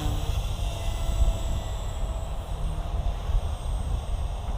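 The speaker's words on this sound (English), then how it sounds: "it's honestly the lightest flying 180 size helicopter that I've had." Blade Fusion 180 Smart RC helicopter in flight, a steady broadband whirring drone of rotor and motor that holds at an even level throughout, with no talk.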